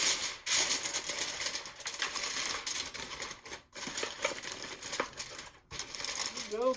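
Aluminium foil is handled and crinkled over baked apples, a close, continuous papery crackling with a few short pauses.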